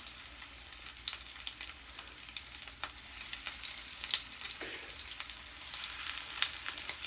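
Butterfly shrimp frying in hot oil, a fairly quiet, steady sizzle with scattered sharp crackles and small pops throughout, no voices.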